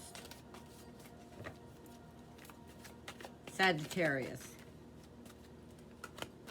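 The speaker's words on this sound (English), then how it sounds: "thanks for being patient while I shuffle with my eyes closed" A tarot deck shuffled by hand gives a soft, steady patter of riffling cards close by, with a brief spoken word partway through.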